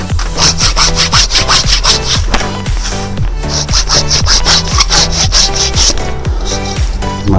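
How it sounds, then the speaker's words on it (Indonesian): Hand saw cutting through wood on a serut (Sageretia) bonsai, loud, close, steady back-and-forth strokes in an even rhythm without pause, no talking. "ini mungkin lebih bagus di sekalian di gergaji sini teman-teman"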